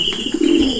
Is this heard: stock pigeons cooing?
yes